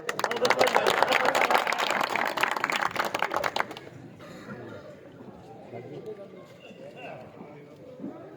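Rally crowd in a Haryana village breaks into dense, loud applause for about four seconds, clapping and scattered calls under it, then cutting off abruptly to murmuring chatter and a voice over a loudspeaker.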